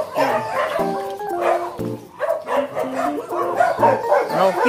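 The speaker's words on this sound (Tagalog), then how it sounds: "ang ingay ng aso sa'yo" Several dogs, including a husky, bark and yip excitedly in quick, overlapping bursts, close by, with some whimpering mixed in.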